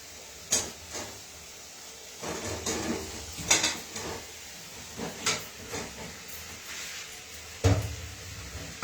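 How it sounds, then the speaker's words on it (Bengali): Fried potatoes dropped into a cooking pan, with scattered thuds and scraping knocks of utensils against the pan at irregular intervals, close by, and a louder clatter near the end. "এই যে ভেজে রাখা আলুগুলো আমি এর মধ্যে দিয়ে দেবো"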